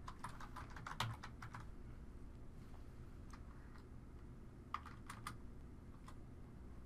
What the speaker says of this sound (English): This time I'll type in my product ID.